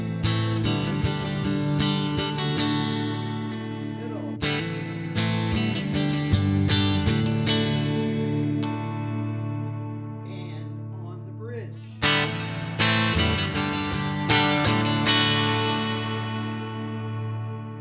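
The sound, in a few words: electric guitar, Stu-Mac Telecaster kit, Wilkinson neck pickup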